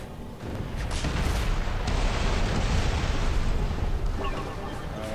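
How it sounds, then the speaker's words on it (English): Rumbling explosions in Spider-Man Web of Shadows form a loud, continuous roar of blasts and booms that fills the whole stretch, with crackling debris and a fainter tail at the end. "Okay, things are exploding"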